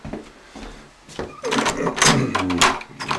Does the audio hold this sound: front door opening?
yes